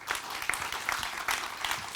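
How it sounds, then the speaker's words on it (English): An audience at a panel event on energy futures applauds steadily for about two seconds, a soft, even wash of many hands clapping, fairly quiet and distant, with no talk over it. "So we really already get a huge applause for being so flexible."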